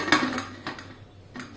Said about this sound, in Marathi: कुकरचं झाकण लावून